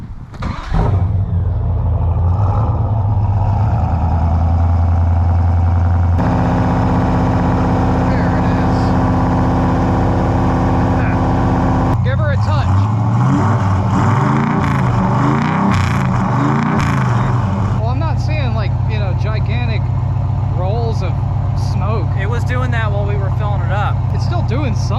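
A 1965 Plymouth classic car engine starts up and runs loudly close by, its rumble shifting in pitch and revs over time, with people talking over it.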